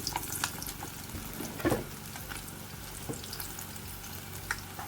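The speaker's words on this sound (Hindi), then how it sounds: "तो अब इनको फ्राई कर लेते हैं। तेल बिल्कुल गर्म है, मैंने इसको स्लो आंच कर दिया है।" Pakoras made from a batter with very little gram flour fry in hot oil on a low flame, giving a steady close sizzle with small bubbling crackles and one louder burst of spattering.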